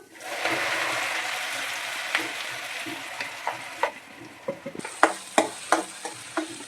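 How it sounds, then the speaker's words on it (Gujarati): Garlic and asafoetida hit hot oil in a steady, loud sizzle, then the sizzle fades and sharp clinks of a spoon stirring the pan come through, in a home kitchen cooking Kathiyawadi lasaniyo rotlo. "હવે આપણે હિંગ મૂકી લસણનો વઘાર મારી લેશું."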